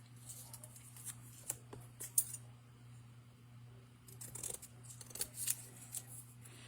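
Scissors snip through paper card stock while Christmas cards are being made, a handful of short crisp cuts close by over a steady low electrical hum, with no talking.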